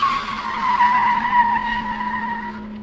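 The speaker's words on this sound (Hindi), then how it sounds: "तभी उनकी गाड़ी जोरदार झटके के साथ रास्ते पर रुक गई" A car skids to a sudden hard stop. A loud, sustained tire squeal holds a steady pitch, then fades out toward the end.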